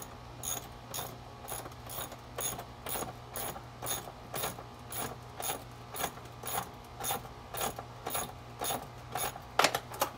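A socket wrench ratchets steadily while a pool filter is tightened, giving about twenty crisp, evenly spaced clicking bursts in a close, regular rhythm with no speech.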